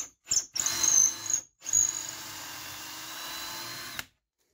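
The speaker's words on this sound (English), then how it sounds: "So when I drill my holes to run the rope up through" A power drill bores holes through a wood board for a bird feeder, whining loudly in three close bursts, the last a sustained run of about two seconds before cutting off.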